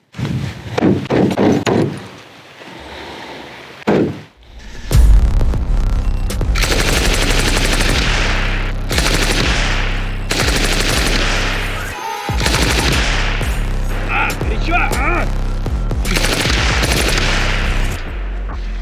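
Bursts of automatic fire from a PKM machine gun and an assault rifle during a vehicle bulletproofing test, loud and close, with rapid rattling volleys, brief pauses between strings and one sharp break midway.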